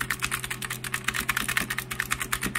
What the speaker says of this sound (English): This is the keyboard test on the new one.